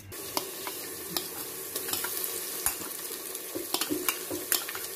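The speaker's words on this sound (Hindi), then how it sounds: "हमने 200 मिलीलीटर तेल डाला है इसमें, और साथ ही हम इसमें प्याज नरम करने के लिए डाल रहे हैं।" Onions sizzle in 200 ml of hot oil with a steady frying hiss, broken by scattered clicks and scrapes of stirring, fairly quiet and without voices.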